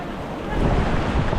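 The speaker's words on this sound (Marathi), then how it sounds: "भरपूर लाटा खवळलेल्या आहेत" Rough, churning sea surf at Harnai fishing harbour, a steady broadband wash that swells louder halfway through, mixed with wind buffeting the microphone; no talking.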